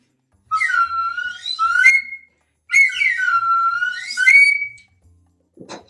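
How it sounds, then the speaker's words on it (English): A plastic slide whistle plays two long gliding phrases, its pitch sweeping up and down in loud, close bursts separated by a short pause, with a faint knock at the end. "Even a slide whistle, plastic one."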